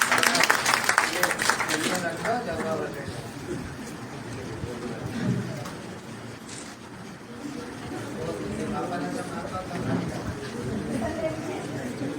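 Audience applause at a book launch and felicitation ceremony, a dense burst of clapping for about two seconds that fades into murmuring voices and a room full of chatter.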